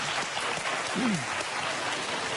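A studio audience reacts loudly with sustained applause and crowd noise, a dense, steady roar of clapping and voices filling the whole moment, with a brief voice rising above it.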